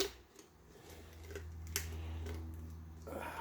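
Kitchen shears cut through a whole raw turkey to spatchcock it, giving a few quiet, separate snips and crunchy clicks spaced across a short, hushed stretch close to the mic.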